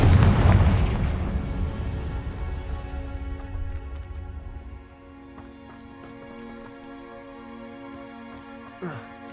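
Confringo explosion spell in the video game Hogwarts Legacy, a deep booming blast that rolls and fades over several seconds into a quiet hum, with a faint sharp effect near the end.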